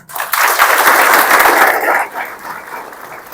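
Audience at a college lecture hall in Pune applauding visiting parents, a loud burst of clapping that swells quickly, holds strongly, then thins and fades toward the end.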